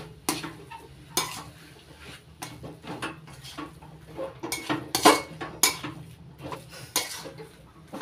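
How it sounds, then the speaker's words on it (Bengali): Mustard seeds, chili and peanuts being stirred together in a bowl, giving irregular scraping and clinking taps with sharper knocks now and then, close and moderately quiet. "সাদা সর্ষে, কালো সর্ষে, লঙ্কা আর চিনাবাদাম। ভালো করে মিশিয়ে নিচ্ছি।"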